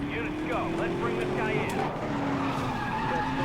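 A car drifts sideways in Need for Speed: Most Wanted (2012), its tires squealing in a steady, rising whine over a constant loud engine roar.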